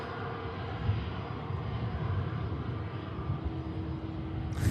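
A Pegasus airliner taxiing at Manchester Airport, its engines producing a moderate, steady hum and low rumble with a faint whine, fairly distant and unbroken.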